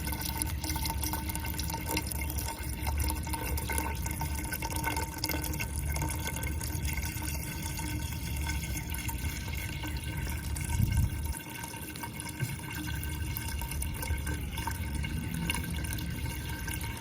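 Liquid poured down a tube into the bottom of a box, a soft, steady trickling and splashing that runs quietly and continuously with no voices.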